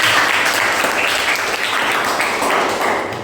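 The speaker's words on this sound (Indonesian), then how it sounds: "Tepuk tangan untuk Felisa." Students in an economics class clap for a classmate, Felisa, producing dense, continuous applause at close range that holds steady for a few seconds with no talk.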